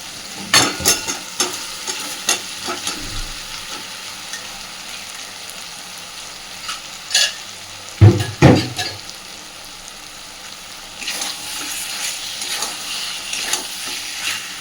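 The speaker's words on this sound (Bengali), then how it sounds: "আলুটা দিয়ে খুব ভালোভাবে এবার মশলার সাথে কষতে থাকবো।" Boiled potatoes being fried and stirred with spices in a pan for aloo dum, a steady close sizzle with scraping stir strokes and a few louder clatters midway, no talking.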